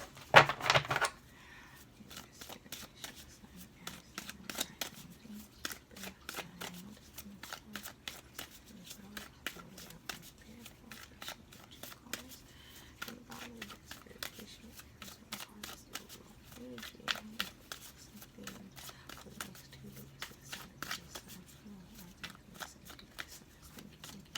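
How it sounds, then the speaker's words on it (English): Dense, rapid papery riffling of a card deck being shuffled, steady and close, with a voice talking quietly underneath at times. "We're going to shuffle one more time"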